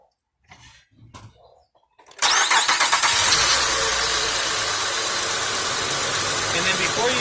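A 2005 Acura RL's engine cranks and fires after a few brief low voice sounds, then settles straight into a loud, steady idle that holds close by to the end.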